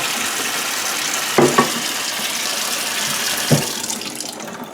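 Water poured into a pot of liver cooking over a stove flame, a steady running wash with a couple of soft clunks, close and moderately loud, no talking.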